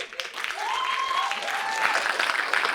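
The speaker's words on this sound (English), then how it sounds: "They'll know to come on because you'll clap" Loud, steady applause from a live studio audience welcoming a team of contestants onto a comedy news game show, a dense wash of clapping sustained throughout with a faint tone and some voices mixed in.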